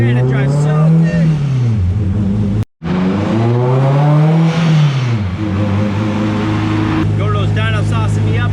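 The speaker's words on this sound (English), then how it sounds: "Let's try this old hot rod out. Man, it drives so good." An old hot rod car accelerating hard while driving, its loud engine note climbing through the revs, cutting out briefly at a shift, then rising and falling again, close and dominant.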